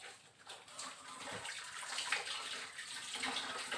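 A polished martabak baking pan is rinsed clean under running tap water, a steady, faint splashing wash with no talking.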